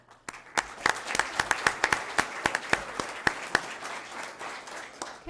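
Applause for recognized girls and their parents at a Weslaco ISD school board meeting: a room of people clapping steadily for about five seconds, with sharp individual claps standing out over the dense patter.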